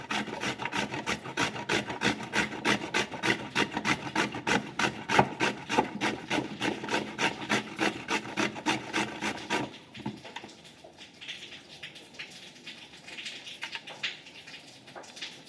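Raw green papaya rasps rhythmically against a grater in fast, even strokes for about ten seconds, then the scraping turns softer and more irregular.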